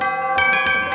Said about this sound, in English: Also tubular bells.